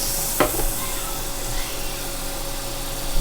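Shrimp frying in safflower oil in a hot pan, a steady loud sizzle with a sharp clack near the start and faint clatter later.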